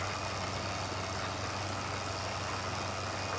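A tractor engine idles steadily in the Farming Simulator 2015 video game, a continuous low rumble with a broad hiss layered over it, constant in level throughout with no talking.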